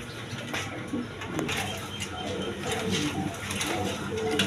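Pigeons coo at a pigeon seller's stall, soft repeated throaty calls from several birds over a busy, noisy background.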